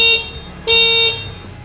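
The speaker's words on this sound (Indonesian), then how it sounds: "suara klaksonnya kurang lebih seperti ini" Electric horn of a Goda Lion200 electric motorcycle, sounded in two loud steady beeps, the first short and the second longer, each a sustained tonal honk, with no talk over them.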